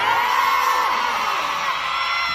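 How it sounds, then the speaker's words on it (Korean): A crowd of fans at a live fan event cheers and shouts loudly, a sustained wall of high-pitched whoops and screams holding steady throughout. "아까처럼 큰 함성 소리를 부탁드릴게요"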